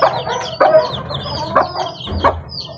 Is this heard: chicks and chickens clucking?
yes